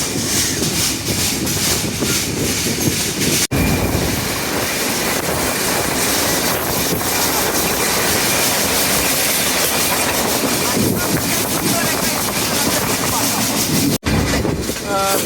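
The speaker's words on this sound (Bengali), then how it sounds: "বিকেল 3:26 ট্রেন প্রবেশ করতেছে জামতলী স্টেশনে, সিরাজগঞ্জের জামতলী" The Chitra Express passenger train pulls into Jamtoli station in Sirajganj, wheels clattering loudly and continuously over the rails, with a brief squeal near the end.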